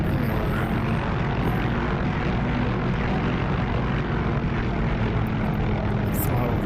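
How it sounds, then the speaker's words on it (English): Steady, continuous helicopter engine drone and rotor thrum in the DCS flight simulator, a loud, even broadband roar with low rotor pulsing running unbroken throughout, no speech. "Like I said, this thing is an awesome helicopter."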